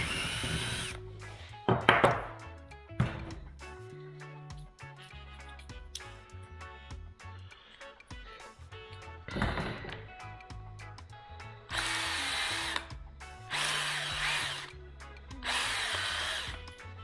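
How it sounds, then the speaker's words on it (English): A power drill whirs in repeated short bursts, biting through scrap wood along a drawn line with pauses between holes, close and fairly loud. "Now, drill a series of holes."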